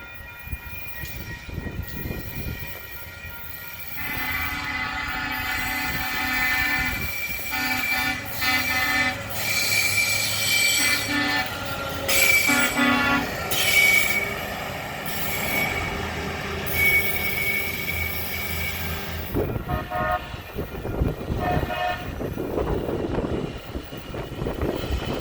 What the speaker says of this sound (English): We then got to see a westbound BNSF manifest train with an executive locomotive to boot